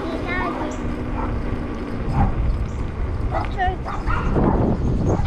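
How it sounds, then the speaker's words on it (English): Dogs barking and yipping at moderate distance, several short calls and a whimper scattered over a continuous motor-like rumble, with people talking in the background. "There's the doggies."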